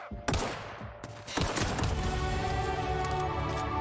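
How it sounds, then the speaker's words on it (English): Rapid bursts of gunfire in the Outer Worlds video game, a few sharp shots and then a dense sustained volley of trigger pulls, loud and continuous with game music underneath. "pull the trigger like 12 times and waste all my ammo"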